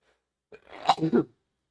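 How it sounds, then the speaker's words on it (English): A single short sneeze, sharp and close, after a quick intake of breath, then silence. "Excuse me, I kind of sneezed."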